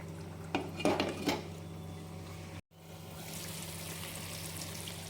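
A lid goes onto a pot of stuffed brinjal masala curry with a few soft metallic clinks and clatters early on, followed by a quiet steady simmering hiss.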